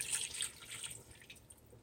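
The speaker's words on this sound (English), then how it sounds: "So here's my beef broth, and you're gonna go ahead and just pour that in there." Beef broth is poured into a pressure cooker for barbacoa, a brief liquid splashing and trickling that starts strong and tapers off, with no one talking.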